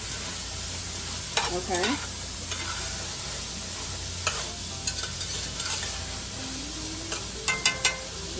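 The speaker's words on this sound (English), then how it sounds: "so we're going to keep stirring" Peppers, onions and smoked meat sizzle in a pot while being stirred, a steady loud frying hiss with occasional scraping, and a voice speaks briefly.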